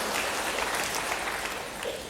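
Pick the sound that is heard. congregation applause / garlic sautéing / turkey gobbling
congregation applause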